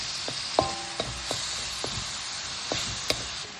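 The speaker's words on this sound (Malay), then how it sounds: "Tumis dulu." Ingredients sautéing in a pan with lemongrass stalks and ginger: a steady low sizzle with scattered sharp clicks of a utensil stirring against the pan, close and fairly quiet.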